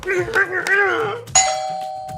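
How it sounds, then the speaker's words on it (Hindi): A doorbell rings indoors, a clear ding-dong chime ringing out loud and sustained after someone speaks over the start. "फोन नहीं आया, दरवाजे की घंटी बज रही है"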